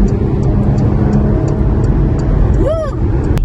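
A Porsche Macan GTS in Sport mode drives along with a loud, steady engine and road drone heard from inside the cabin, with a brief rising whine near the end.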